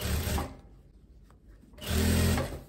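A sewing machine stitching a seam over gathers on a striped linen dress, running in two short bursts with a brief pause between them, close and fairly loud.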